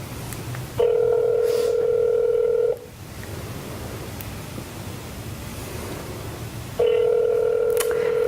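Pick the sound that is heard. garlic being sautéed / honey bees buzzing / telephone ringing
telephone ringing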